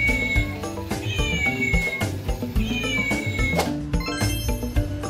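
A toy cat doll meows repeatedly in a bright, electronic voice over a busy, tuneful toy melody that plays continuously at moderate loudness.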